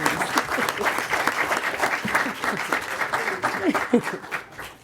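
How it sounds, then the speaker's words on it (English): Audience applause at a city council meeting, sustained, fairly dense clapping from a crowd in a hall, with scattered voices and murmurs under it. "let's give a special round of applause and congratulations"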